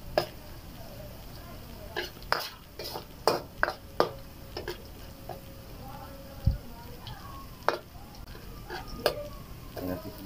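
Garlic stirred in a pan while it browns for a creamy chicken mushroom dish: scattered light clinks and taps of a utensil against the pan over a soft sizzle, with a voice talking in between.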